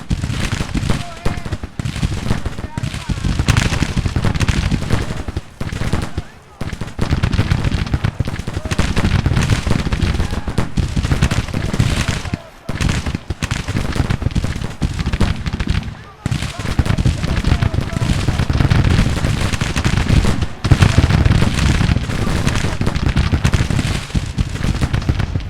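Civil War infantry volleys in Grand Tactician, a video game: dense, continuous crackling musket fire from massed lines, steady and loud throughout with brief lulls, like battle on the move.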